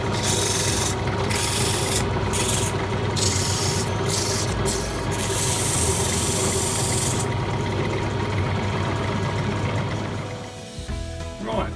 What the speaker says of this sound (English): we've sanded it down a bit